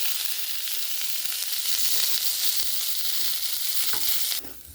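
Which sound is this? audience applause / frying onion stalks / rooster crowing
frying onion stalks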